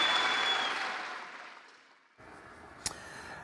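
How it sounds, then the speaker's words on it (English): Crowd applause for Deputy President William Ruto at the Kenya Kwanza manifesto launch at Kasarani: broad clapping that starts full and steadily fades out over two seconds, leaving a quieter background broken by one sharp knock. "Another round of applause for His Excellency,"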